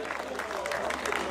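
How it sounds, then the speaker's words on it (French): A crowd at a cycling race team presentation in Besançon gives continuous, fairly distant applause, with an announcer's voice heard over the clapping. "encore tous vos applaudissements, s'il vous plaît, pour la formation Team Unante Atlantique"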